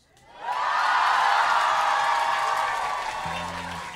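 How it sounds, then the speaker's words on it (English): Live audience bursts into cheering and applause, rising quickly to a loud, sustained roar with whoops that slowly tapers off. "Basic politeness gets a cheer."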